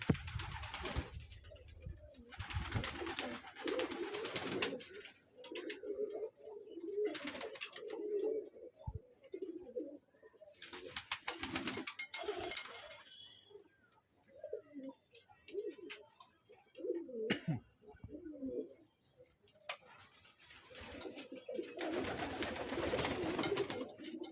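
Racing pigeons coo in a hobby pigeon loft, their soft repeated calls rising and falling nearby while rustling, tapping and fluttering bursts come and go between them.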